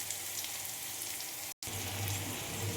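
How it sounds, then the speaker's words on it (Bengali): Small fish frying in a pan on a low flame, with a little water sprinkled over them: a steady, dense hiss and sizzle close up, continuous apart from one brief cut, with no voices. "এবারে অল্প একটু অল্প একটু জল এর উপরে ছড়িয়ে দেবো"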